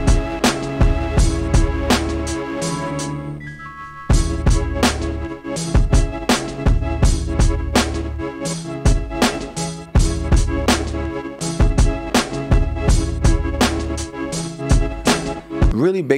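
A looping sample shaped by a Bitwig Curves MSEG modulator repeats as a loud rhythmic pattern of punchy tonal hits and sustained tones, shifting character midway with a short sweeping change, and no talking.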